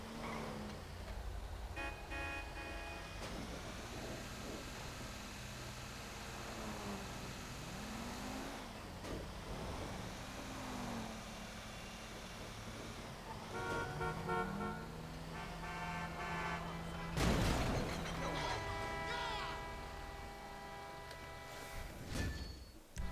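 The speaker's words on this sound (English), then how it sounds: "the traffic seems to be more aggressive and just seems to be busier" Busy, aggressive traffic in the video game GTA V: a steady wash of car engines and revving, with car horns honking through it and a sharper burst of honks near the end.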